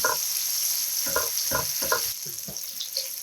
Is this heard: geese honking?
no